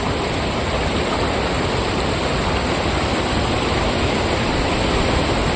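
Continuous loud rush of a village stream flowing after the first rain, steady and broadband, pouring nearby, with no voices.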